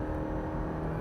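A 2025 Subaru Forester Hybrid compact SUV accelerating hard at full throttle, heard as a steady, continuous engine and road drone from inside the cabin, with no talk.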